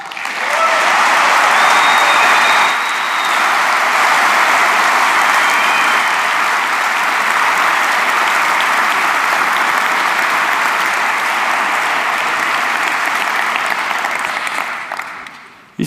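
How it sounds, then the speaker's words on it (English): A large conference audience claps loudly and continuously to welcome the OutSystems CEO onto the stage, the applause holding steady for many seconds before fading. "Please join me in welcoming, with a very loud, big, energetic applause, OutSystems CEO Paulo Rosado."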